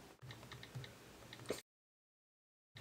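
Fingers tap quickly on the on-screen keyboard of an iPad mini, giving a run of soft, close clicks for about a second and a half before the sound cuts to silence.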